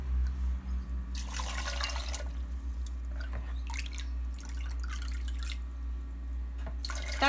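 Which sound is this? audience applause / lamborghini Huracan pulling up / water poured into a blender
water poured into a blender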